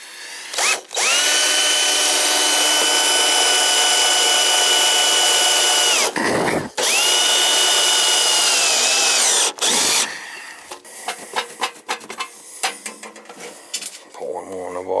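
Power driver whirring steadily in two long sustained bursts on an oil boiler burner, loosening screws during a burner service, followed by clatter and intermittent clicks and handling sounds.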